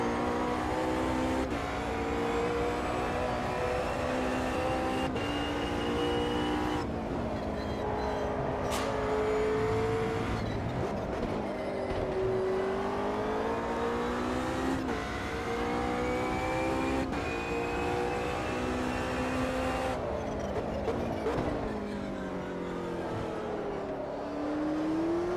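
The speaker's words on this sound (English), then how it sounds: "Faster car approaching." GT3 race car engines in a racing video game, wailing through repeated rising and falling revs with gear-shift breaks as a faster car approaches, loud and continuous.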